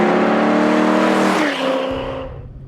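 An LS V8-swapped Porsche 944 accelerates hard up close, its engine note rising strongly for over a second before a gear change and a fading, lower roar.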